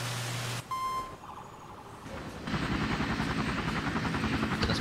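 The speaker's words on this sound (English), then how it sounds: "What is up with the helicopters?" Helicopters in the video game Emergency 4, a steady rotor drone that swells louder partway through, mixed with electronic beeps and alarm-like tones from the game.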